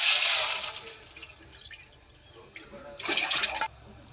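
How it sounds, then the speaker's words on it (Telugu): Water is poured into a pan of roasted vermicelli for semiya kesari: a splashing pour at the start fades, then a second short, louder gush follows near the end. "ఇప్పుడు సేమియాలు వేయించుకున్న గిన్నెలోనే మనం ఇప్పుడు వాటర్ పోసుకోవాలండి"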